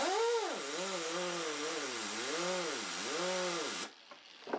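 A power buffing tool polishes guitar frets on a maple fingerboard of a Floyd Rose-equipped guitar, its motor droning loudly with a wavering, rising and falling pitch as the load shifts, then cutting off abruptly near the end.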